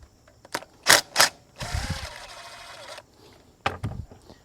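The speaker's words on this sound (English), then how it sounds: "Now we have this ground, which is a T30 that we got to take off." A power tool whirs on a Mercedes while a T30 ground bolt is taken off, with two short close bursts, a steady grinding run of more than a second, then another brief burst.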